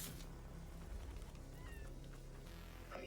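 A cat meows in a video game, faint and brief within a dense, noisy background.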